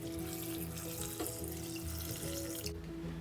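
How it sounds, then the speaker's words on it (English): Four cups of water poured into a pot with chopped onion, carrot, garlic and ginger for chicken stock, a steady close splashing stream of running water that cuts off at the end. "And with this we'll add 4 cups of water."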